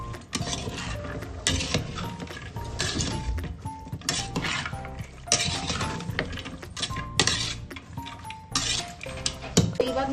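Vegetables for a kurma being stirred in a metal pot with a spoon, giving a steady run of clinks and scraping clatter that stays loud and close throughout.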